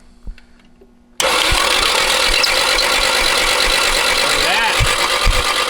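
An abandoned JDM sports car engine cranks briefly under quiet talk, then catches and settles into a loud, steady, rough idle that runs to the end, with people speaking over it.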